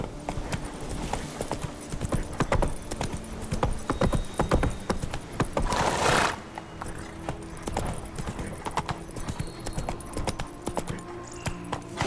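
Roach, Geralt's horse in The Witcher 3: Wild Hunt Blood and Wine, gallops with a quick, steady rhythm of hoofbeats, loud and close, and a brief rush of wind midway.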